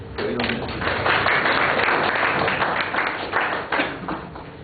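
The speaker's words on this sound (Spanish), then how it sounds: "les pido, por favor, un aplauso para recibir a la profesorita" An audience at a lecture applauds to welcome a professor, a dense, steady wash of clapping at moderate volume that carries on for several seconds before thinning slightly at the end.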